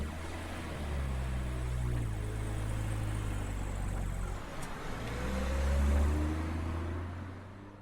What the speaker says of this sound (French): Installé au volant, Lucael mit aussitôt le moteur en marche.